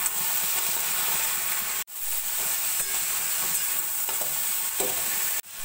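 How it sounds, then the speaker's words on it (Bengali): Okra fries in a pan with salt and turmeric, giving a continuous close sizzling hiss with scraping stirring strokes and a couple of brief breaks. "নুন হলুদ দিয়েও আমরা 3-4 মিনিট মতো ভাজা ভাজা করে নেব।"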